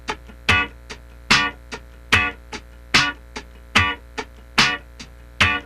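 Funk rhythm guitar muted downstrokes on the downbeat, sharp percussive scratchy chops repeating evenly about every 0.8 seconds, each short and bright, played alone.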